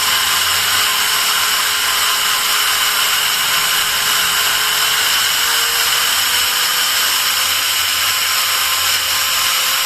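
A Total TG109125565 variable speed angle grinder runs at speed setting 4 with a steady, loud, high-pitched whine that holds constant without a break.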